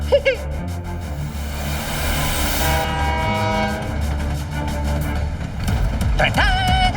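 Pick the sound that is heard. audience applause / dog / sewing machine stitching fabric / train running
train running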